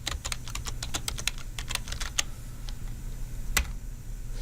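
Rapid keystrokes on a computer keyboard as a username is entered for a code push, a quick run of close, crisp clicks followed by a few scattered taps and one sharper key strike over faint low hum.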